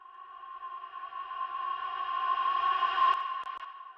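A swelling, ghostly vocal tone that builds gradually in loudness and then cuts off abruptly, like a reversed reverb tail rising into a note.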